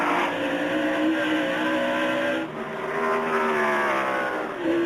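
NASCAR race cars from the 2002 season roar around the track in a steady, loud engine drone with shifting pitch as the pack charges through the final corner, with no talk.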